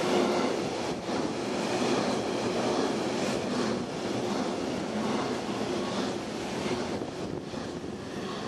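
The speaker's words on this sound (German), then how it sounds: "Dann folgt ein Cargozug mit vielen Gütern, der zum Rostocker Seehafen unterwegs ist." A long freight train loaded with goods heads for Rostock's seaport and passes the Kronskamp rail stop near Rostock airport, giving a steady, moderately distant rumble and rolling noise with wind buffeting the microphone.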